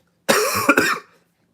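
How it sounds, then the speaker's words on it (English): A single loud, close cough, one harsh burst lasting under a second, then silence. "I'm starting to cough over here."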